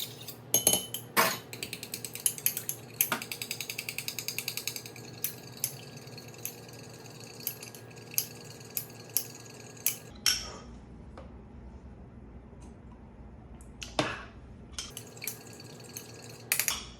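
Mayonnaise being mixed into a sauce in a bowl, with a run of quick close clinks and taps of a utensil against the bowl, then sparser knocks and wet stirring, no talk.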